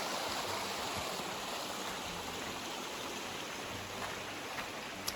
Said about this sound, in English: The water's just cascading down off the rocks.